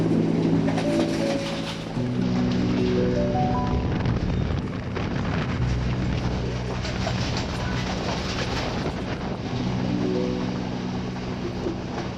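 A Kandy-bound train crossing the Peradeniya bridge in Sri Lanka rumbles loudly with steady rhythmic wheel clatter, heard from onboard, while tonal horn-like hums rise and fall over the noise.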